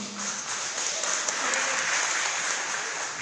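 Audience applause at a Minnesota GOP gubernatorial debate, a dense, steady burst of crowd clapping filling the room, fairly loud and even from start to finish with no talk over it.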